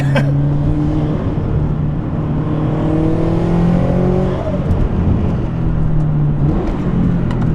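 A turbocharged Toyota 86/Subaru BRZ engine revs loudly with automatic rev matching, rising and falling pitch sweeps over a constant drivetrain roar and a faint turbo whir, close and continuous.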